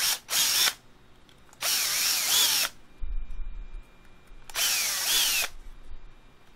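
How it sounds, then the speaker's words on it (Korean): A power drill fitted with a 3 mm bit reams out a small hole, running in three loud whirring bursts separated by short pauses, with faint handling knocks in between. "3mm 드릴날로 한번 훑어주셔야 돼요."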